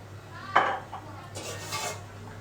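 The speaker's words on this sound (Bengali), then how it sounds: "এই থালাটাও রেডি করে রাখি।" A plate clatters once as it is set down in a home kitchen while mango leather is being made, followed by softer scraping and handling noises at close range.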